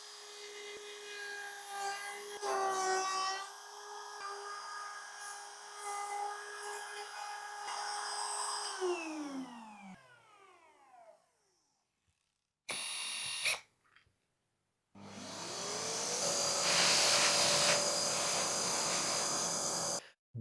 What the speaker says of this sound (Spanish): Usando una fresa de corte al ras y una guía impresa en 3D, estoy cortando el asiento del rodamiento.